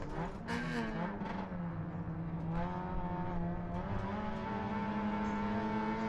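Race car engine accelerating hard out of a corner late in a race, pitch climbing through second gear then a shift into third, loud, close and continuous with steady engine harmonics throughout.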